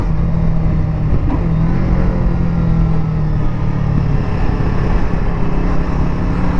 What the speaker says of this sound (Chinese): 这款发动机还是的，你把转速调高一点去骑